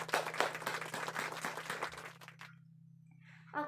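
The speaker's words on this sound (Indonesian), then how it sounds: "Beri aplaus dulu dong untuk kelompok 2." A classroom group claps for the second group of presenters in a micro-teaching lesson, a brisk burst of applause lasting a couple of seconds before it drops away to a low, steady hum.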